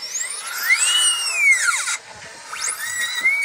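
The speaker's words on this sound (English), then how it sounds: "you hear a drill shaving off my teeth" A high-pitched dental drill shaving teeth whines loudly in a song mix. Its pitch sweeps and bends in long glides, cuts off briefly, then swoops back in.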